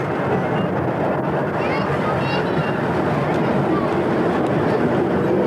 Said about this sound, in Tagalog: Nakasakay kami sa tren.